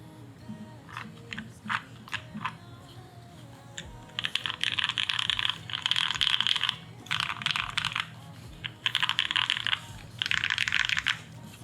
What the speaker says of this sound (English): now this is the typing test on the Bakeneko60 with Black Inks on FR4 with the Tempest mod